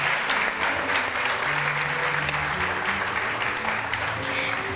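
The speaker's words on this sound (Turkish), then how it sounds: "bir alkış rica ediyorum" A Turkish daytime television talk show's studio audience breaks into loud, continuous applause, with steady background music playing underneath the dense clapping throughout.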